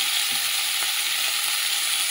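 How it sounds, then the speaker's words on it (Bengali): Cauliflower frying in hot oil with salt and turmeric, giving a steady, even hiss of sizzling close by, with only faint stirring touches and no voices. "একটু নুন হলুদ দিয়ে একটুখানি সাঁতলে নেবো তেলে"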